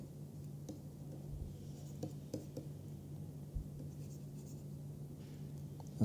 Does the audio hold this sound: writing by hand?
yes